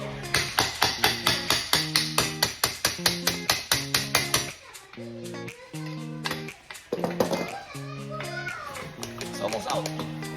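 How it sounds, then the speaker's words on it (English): A hammer strikes a socket placed against the seized rear axle of a dirt bike, ringing out in a rapid, steady run of metallic blows. Louder, irregular hits follow, and children's voices can be heard in the background. "All I do is use, you know, one of these sockets and a hammer."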